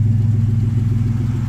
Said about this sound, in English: Not a bad sounding exhaust for a homemade setup.